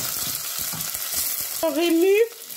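Double-concentrated tomato paste fries and gets stirred in a pan, a close sizzle with soft scraping strokes, then a rising voiced sound briefly cuts in near the end.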